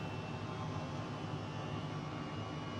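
Simulated Airbus H135 helicopter turbine in a flight simulator game, a steady, fairly quiet engine whine and hum held at an even level with no rise in throttle evident.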